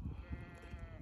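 A young Hissar lamb bleats once in a short, close, fairly faint cry, heard on its own with no talking.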